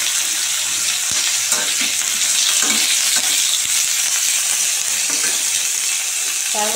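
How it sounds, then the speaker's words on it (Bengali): Boiled cauliflower goes into hot oil and fries with a loud, close, continuous sizzle, punctuated by stirring scrapes and clinks against the pan. "তেল গরম হয়ে গেছে, এইবার আমি সেদ্ধ করা ফুলকপিগুলো এর মধ্যে দিয়ে দেবো"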